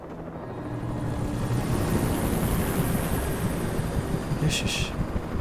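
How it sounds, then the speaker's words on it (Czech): A helicopter flies overhead in the video game Alan Wake, a dense, steady rotor roar that swells in over the first second and then holds loud and even, with a brief high chirp near the end. "A ne, vrtulník?"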